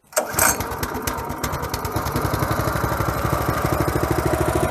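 The petrol engine of a GTM LC80R wood chipper, a two-shaft branch shredder, starts and settles into a loud, steady, close throbbing run with a constant rhythmic chug.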